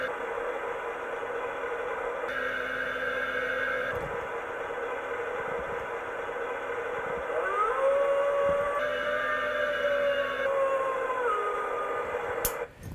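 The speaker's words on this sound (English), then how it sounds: "It'll sound like a waterfall light up and the wolf will howl." Wolf howl played by a light-up wall decoration, rising and gliding over a steady rushing waterfall sound, loud and close, with a brief click at the end.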